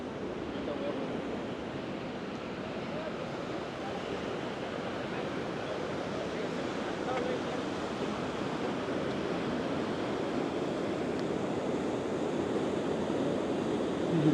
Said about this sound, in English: You can see this very narrow water course and extremely fast water.